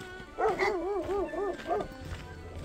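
Several dogs in Greece bark and yelp in a rapid, wavering burst, fairly close, then a couple of shorter barks follow before quieting.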